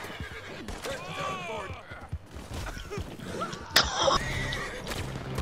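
A horse whinnies loudly in Red Dead Redemption 2 Online, with hoof clops and other busy game sounds around it, plus a brief sharp hit near the middle.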